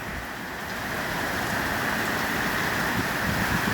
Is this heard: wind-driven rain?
yes